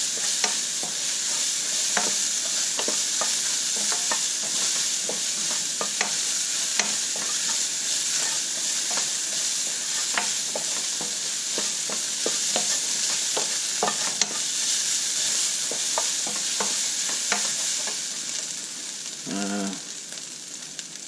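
Ground taco meat with seasoning frying in a pan while being stirred, a constant close sizzle broken by scraping strokes of the utensil throughout, with a short voice near the end.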